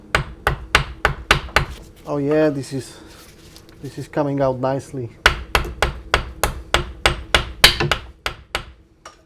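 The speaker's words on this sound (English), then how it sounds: "Now I'm going to pry the axle out, and let's hope it goes just as smooth." Prying a rusted rear axle out of a BMW E46, a steady run of sharp metallic hammer blows striking close and loud in regular rhythm, pausing twice while someone speaks briefly.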